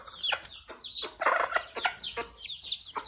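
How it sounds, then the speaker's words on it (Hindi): Kadaknath chickens cluck and squawk in rapid, overlapping bursts while being fed grain, close by and fairly loud, with no talk. "अपना कड़कनाथ मुर्गा को भी थोड़ा सा दे देते हैं"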